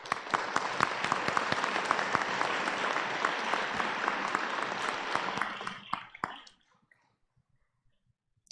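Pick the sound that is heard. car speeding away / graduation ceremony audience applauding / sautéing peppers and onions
graduation ceremony audience applauding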